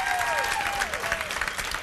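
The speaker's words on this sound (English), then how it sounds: "Round of applause for David Gaffney." A live audience at E3 2010 applauds in a brief, steady burst of clapping, with a voice speaking over it.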